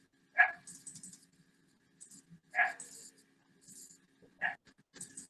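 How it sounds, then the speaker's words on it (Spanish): A pet dog barks nearby during an online class, three sharp separate barks spaced roughly two seconds apart, each followed by a brief yip, against an otherwise quiet room. "¿Quién tiene su perrito cerca?"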